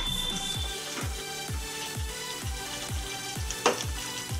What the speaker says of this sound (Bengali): একটু ভালো করে নাড়িয়ে দিলাম।